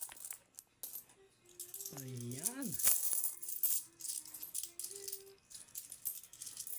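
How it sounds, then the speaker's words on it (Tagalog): A big pile of peso coins is handled and counted by hand, giving metallic rattles and clinks alongside the talk of people nearby. "Kami po ay magbibilang ngayon ng mga barya po."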